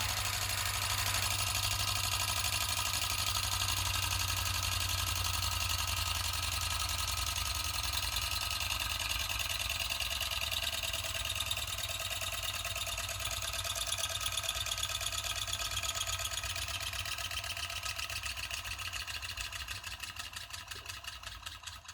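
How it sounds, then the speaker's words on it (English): A modified OKMO Microcosm R01 Rider Ericsson Stirling engine runs with a fast, even mechanical clatter and low hum over a steady hiss, the beat speeding up and then fading toward the end. "my OKMO Microcosm R01 Rider Ericsson Stirling engine"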